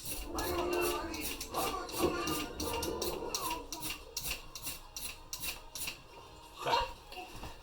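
A brand new ferro rod is scraped to shave off its coating, giving close, repeated rasping strokes in a steady rhythm, with a few sharper scrapes later on and no talk.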